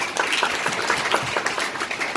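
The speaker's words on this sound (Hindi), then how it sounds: "से ताली बजाओ ये इसके लिए" A church congregation claps loudly during a sermon, a dense, steady wash of applause filling the short moment with no voices.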